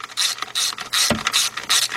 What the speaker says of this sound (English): 12mm deep with 6-inch extension. Tighten those bolts up.